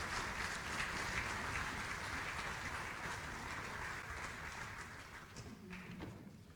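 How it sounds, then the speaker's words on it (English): An audience applauds after a speech at a gathering, a continuous muffled roll of clapping heard from some distance, fairly faint and slowly thinning out, with no talking. "Another round of applause, please."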